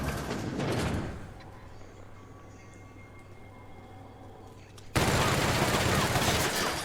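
Sustained gunfire in The Outer Worlds video game as shots hit a bullet-resistant robot, a loud burst at the start, a quieter stretch of background game sound, then another loud dense burst at the end.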